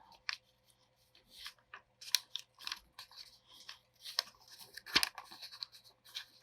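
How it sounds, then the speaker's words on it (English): Paper being cut with scissors during a craft session, folded paper sliced in a run of short, crisp snips and rustles at close range, with no talk over it. "I'm just going to cut up some paper here"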